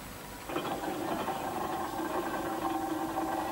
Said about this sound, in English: These engines are huge and have a distinctive rattle as they work the land.